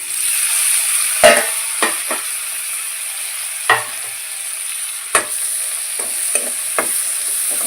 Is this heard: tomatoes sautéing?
yes